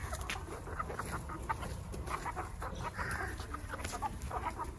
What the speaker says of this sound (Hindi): कबूतर और मुर्गियाँ इकट्ठिया हो गए हैं